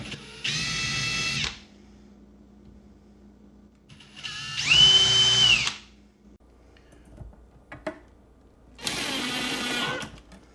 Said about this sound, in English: drill the holes where they need to be drilled